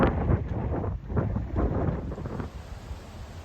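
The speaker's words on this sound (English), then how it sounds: "Windy at my house today." Strong gusts of wind buffeting the microphone, rumbling in uneven surges before easing into a softer, steady blow.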